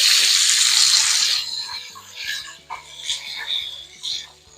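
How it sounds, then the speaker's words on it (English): Tap water runs loudly into a sink for a moment, then drops to softer splashing and trickling as an aquarium stone is rinsed under the flow, with light knocks in the basin. "I'm going to turn the water on, but basically I am going to just wash the stone"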